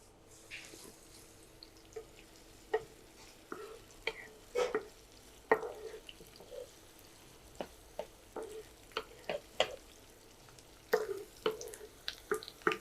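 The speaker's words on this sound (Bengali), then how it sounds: "রসুন আর পেঁয়াজটাকে ভেজে নিয়েছি" Garlic and onion sizzling in a spoonful of oil for a drumstick dal, with a soft steady fry under scattered stirring clicks and scrapes, close up and fairly quiet, no voices.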